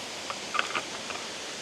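Baxter Falls waterfall gives a steady, faint broadband rush throughout, with a few soft handling clicks near the middle and no talk.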